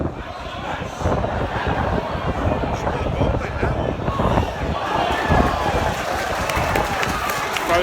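Strong wind buffets the microphone at a windy Oxford versus Sunderland football match, roaring and rumbling continuously and loudly, with a crowd faintly audible beneath the gusts.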